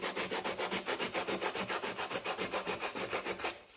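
Steady rhythmic hand sanding of a chainsaw cylinder in a crosshatch pattern, even back-and-forth strokes about six per second, close and continuous with no voices.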